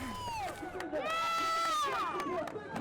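Spectators at the Speight's Coast to Coast multisport race cheer and shout in a loud, sustained burst, with high excited voices rising and falling over a dense crowd roar.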